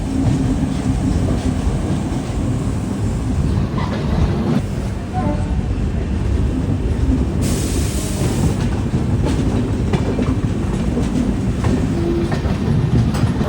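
The Kollam–Visakhapatnam Express rolls into Renigunta station with a loud, continuous rumble and rhythmic clickety-clack of wheels on rail joints, close and steady throughout with no voices.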